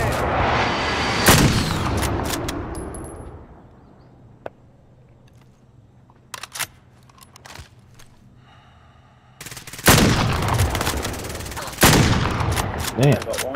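Game gunfire from Warzone Resurgence on Rebirth Island: a few loud single shots and short bursts early on, then quieter scattered pops through a lull before heavy bursts return near the end, with some voice chat beneath.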